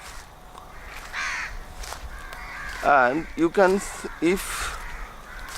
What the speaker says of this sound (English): So all the birds are crying